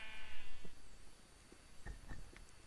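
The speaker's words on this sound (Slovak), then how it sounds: "Ovca." A Minecraft sheep lets out one short, clear bleat at the start, followed by soft scattered game clicks and footstep-like taps.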